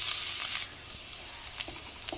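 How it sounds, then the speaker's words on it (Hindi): Sangri beans roasting in a pan give a steady sizzling hiss, louder for the first half second and then settling to a low crackle with a few soft pops. "तो सिंगरे को हम भूनेंगे।"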